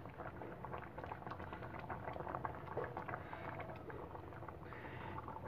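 Fish curry with coconut milk bubbling and sloshing in a pan as it is swirled by hand, a steady close simmering patter with small liquid splashes throughout.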